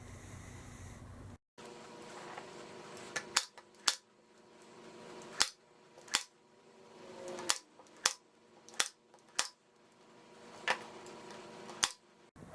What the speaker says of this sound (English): I'm going to take my staple gun and go ahead and start stapling these down to the boards